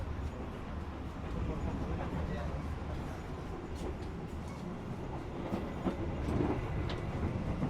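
Inside the Argo Wilis passenger train on the run from Surabaya to Bandung, a steady rumble of carriages with faint clicks from the rails and a person talking over the noise.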